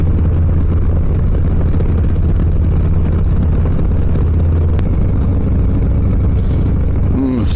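A 2023 Harley-Davidson Low Rider S motorcycle engine while riding, producing a loud, steady, low rumbling drone that continues without a break.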